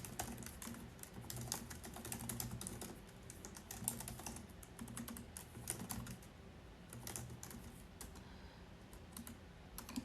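Code being typed on a computer keyboard, with a steady, fairly quiet stream of close key clicks in irregular bursts and brief pauses, and no voices.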